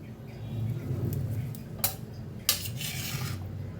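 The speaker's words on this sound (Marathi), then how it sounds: "कोथिंबीर कापून घेते." Knife work on a board cutting fresh coriander, two sharp isolated chops against a quiet kitchen background, close and clear.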